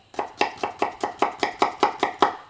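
A knife chops a vegetable finely on a cutting board, about ten crisp, evenly spaced strikes close up in a quick steady rhythm, with no voices.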